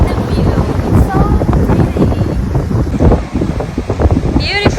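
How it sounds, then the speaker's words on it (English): Strong wind buffets the microphone on the coast at San Simeon, California, a loud, gusty roar with surf beneath, while people talk briefly and a few seagull-like cries break through. "It's so windy, but look at the view."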